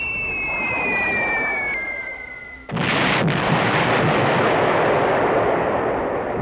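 During a B-17 Flying Fortress Leader bombing run on U-boat pens, a steady engine drone with a falling whistle gives way to a sudden loud roar of bomb blasts that rumbles on to the end.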